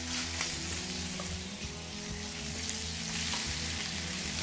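Beef steak fries in a dry, hot pan with no oil, giving a loud, continuous close-up sizzle with steady crackling and no voices.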